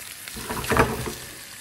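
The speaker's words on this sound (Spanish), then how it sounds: "la sartén y el aceite tienen que estar calientes cuando ponen la cebolla" Onion sautéing in hot oil in a frying pan gives a short, steady sizzle that swells to a louder crackling peak midway and then settles, with no talking.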